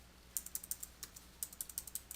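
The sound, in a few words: typing on a computer keyboard entering a phone number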